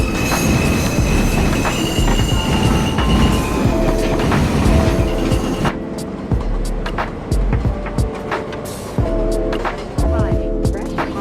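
An M subway train pulls into Fresh Pond Road station with loud, sustained wheel squeal and rumbling rail noise, then the squeal fades into intermittent clanks and clicks as the train slows.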